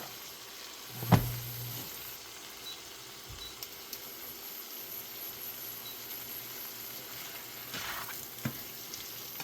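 Shrimp fry in a pan with butter and garlic, a quiet, steady sizzle with occasional clanks of a utensil against the pan.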